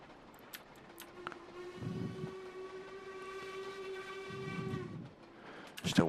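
A train whistle on a model railway layout sounds one long steady tone, quite faint, with brief rumbling of the train running beneath it partway through and a few clicks near the end.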